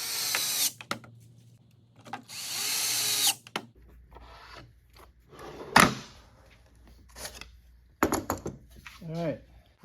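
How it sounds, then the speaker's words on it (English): Short bursts of a power drill drive screws to fix a Blum Tandem undermount drawer slide from inside a cabinet, with clattering of wood and drawer parts between bursts and a person speaking near the end. "you can open it and you can screw it in from the inside"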